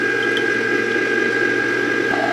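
Chocolate hazelnut gelato base is poured slowly into a running home ice cream maker, giving a steady mechanical hum with a soft liquid trickle throughout, close and unbroken.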